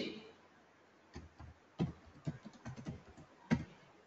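Java code being typed on a computer keyboard: sparse, close key clicks in small irregular bursts with brief pauses, some strokes sharper than others, against a quiet background with no speech.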